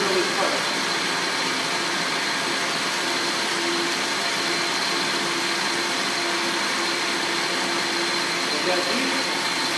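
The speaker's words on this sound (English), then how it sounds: "Now it's coming in the center drill this part" A lathe center drills a spinning part, giving a steady, loud whirring machine drone with a faint tonal whine and no breaks.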